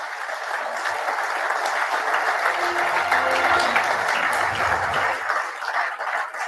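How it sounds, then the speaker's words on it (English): Audience applause fills a hall at a journalism awards ceremony as the Chief Justice of India is welcomed, a steady, dense wash of clapping held at even loudness, with a low murmur of voices and music underneath. "after your warmest claps"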